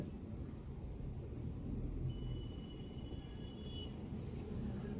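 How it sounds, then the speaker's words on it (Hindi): Busy road traffic on a morning drive out of Mumbai toward Surat, heard as a steady low rumble of passing cars with a faint high engine whine midway and no talk. "बॉम्बे वैसे भी मशहूर है अपने ट्रैफिक के लिए।"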